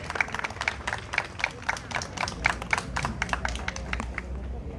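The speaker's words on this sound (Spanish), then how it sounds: "brindamos un caluroso aplauso al alcalde distrital de La Perla, ingeniero Aníbal Jara Aguirre" Scattered hands clap for the La Perla district mayor at a bakery workshop inauguration, distinct individual claps in a loose rhythm rather than a dense roar, moderately quiet with low background rumble.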